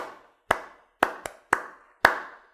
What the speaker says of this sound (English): I don't know if you can give him a round of applause, but let me do it from here